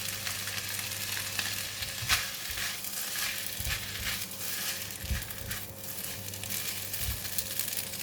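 Rice pin noodles (Lou Shu Fun) fry in a hot pan, giving a steady sizzle with occasional stirring scrapes and soft clatters throughout, with no talking.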